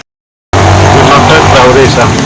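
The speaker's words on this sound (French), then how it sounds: "en plein apprentissage de conduite de tracteur" A tractor engine runs steadily and loud, close by, as trainee agricultural entrepreneurs in Banfora learn to drive it, starting abruptly after a brief silence with a low rumble throughout.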